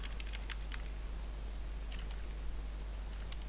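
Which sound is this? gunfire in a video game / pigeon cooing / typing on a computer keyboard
typing on a computer keyboard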